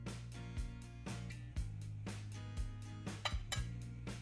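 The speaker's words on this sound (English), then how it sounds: "Now gently fluff the rice." Cooked rice gets fluffed in a pot: soft scraping and clinking of a utensil against the metal pot in a loose, irregular rhythm, close by, over a low steady hum.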